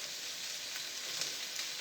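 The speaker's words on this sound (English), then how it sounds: "Just a little sizzle." Steady crackling sizzle of food frying in a pot for a beef and ale stew, close and continuous, with a few sharper pops rising above the hiss.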